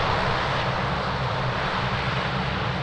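A fixed-wing aircraft taking off from runway 02 at Lisbon Airport produces a steady, loud, broadband engine roar that holds constant throughout without any talk.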